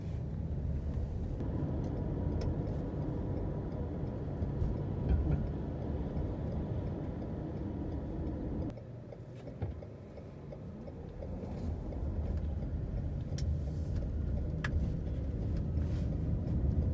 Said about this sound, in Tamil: பேசிக்கலி இந்த கார் வந்துட்டு நான் அதில் போக போகிறேன்.